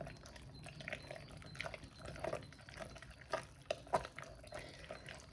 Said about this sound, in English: So I'm going to try and stir this in gradually.